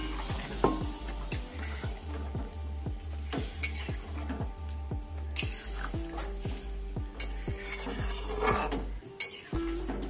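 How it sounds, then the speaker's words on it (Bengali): Mutton stock is poured into a red, spicy mutton curry frying in a pot, sending up a sizzle over rapid, regular metallic knocks and scrapes, close by and without voices. "এই জলটাই দিয়ে দেবো।"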